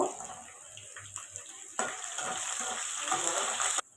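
Garlic and green chilies with cumin frying in a hot pan: steady sizzle, growing louder and denser about halfway through, with light stirring scrapes, then cutting off abruptly near the end.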